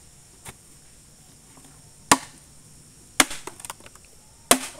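A golok machete chops hard gombong bamboo outdoors. Four sharp, close strikes are spaced irregularly, with a quick cluster of smaller knocks after the third, against a quiet background and no talking.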